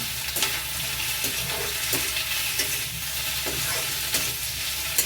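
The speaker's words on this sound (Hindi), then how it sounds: "आलू कर दिया हमने फ्राई।" Potatoes fry in a hot pan with a steady, dense sizzle, while a spoon scrapes and stirs them at irregular intervals, close and moderately loud with no voices.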